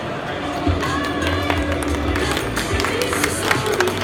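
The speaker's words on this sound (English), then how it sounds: "Giant round of applause" An audience at a sponsor presentation gives a round of applause, dense continuous clapping at a steady level for the whole stretch, with crowd murmur underneath.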